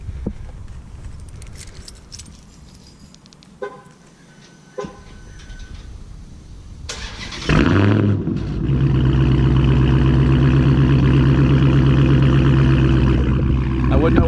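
Keys jingle and click before a Dodge Challenger or Charger Hellcat's supercharged V8 cranks and roars to life, settling into a loud, throbbing idle with a deep rumble.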